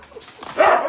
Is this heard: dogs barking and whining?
yes